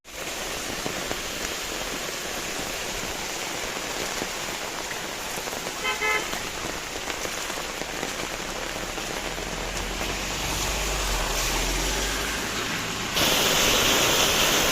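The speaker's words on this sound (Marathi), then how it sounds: "पाऊस जोरातच आला" Heavy storm rain pours continuously in Mandangad, a dense roaring patter, with a brief car horn toot midway and traffic rumbling underneath.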